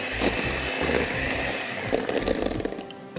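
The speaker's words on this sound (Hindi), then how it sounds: "निकालिए अब इसको अच्छी तरह और ब्लेंड कर दीजिए" An electric blender whirs loudly, churning an apple parfait mixture, its motor running in steady pulsing surges with no voices.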